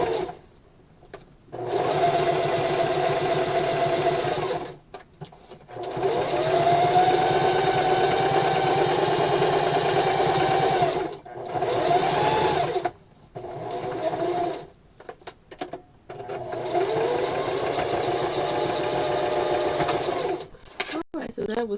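Domestic sewing machine back stitching over elastic on a wrist pincushion, running in several long whirring bursts separated by brief pauses, close and steady, with a person talking in between.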